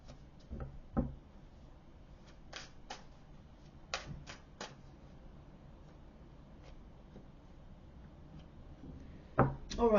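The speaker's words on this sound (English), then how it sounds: "Let me pull some more cards here, right, guys?" Tarot cards being shuffled and pulled from the deck, heard as sparse, close, soft clicks and brief riffling bursts, with a faint knock early on and a livelier flurry at the very end.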